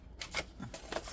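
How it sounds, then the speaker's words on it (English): Scissors snipping through a paper gift bag at a desk, a few short close crisp cuts in quick succession. "I'm going to just cut that there."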